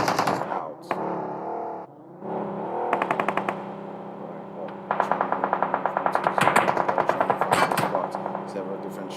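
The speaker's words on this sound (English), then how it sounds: "Several different shots coming in" Gunfire in a PUBG match comes from several directions, sharp rapid bursts and single shots, some near and some distant, with a commentator talking over it throughout.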